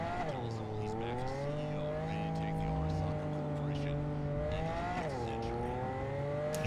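A sports car's engine drones steadily in Cyberpunk 2077, its tone rising and falling as it revs, loud and continuous under the game's other sounds.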